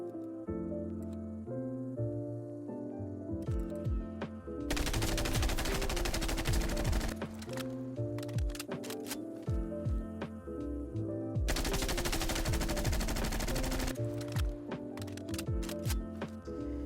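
Assault rifle fire with an agency suppressor in a first-person shooter video game, long sustained automatic bursts in two main stretches, loud and dense, with scattered single shots and game sounds between them.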